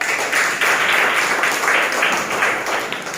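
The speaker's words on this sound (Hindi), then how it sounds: "गुड, तालियां बजा दो।" Children in a classroom clap together after a game, a steady, moderately loud patter of small hands lasting a few seconds.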